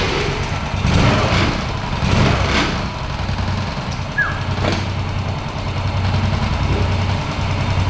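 A rebuilt Honda Supra motorcycle engine idles in a garage after reassembly, a steady low hum with a few brief throttle swells over several seconds.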